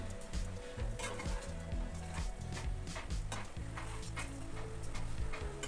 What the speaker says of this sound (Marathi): आता ते कांदा टोमॅटो चांगले मिक्स करून घ्यायचे आहेत।